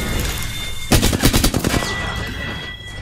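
Burst of rapid automatic gunfire in the video game Apex Legends, a dense run of shots lasting under a second amid steady game background noise, with no voices.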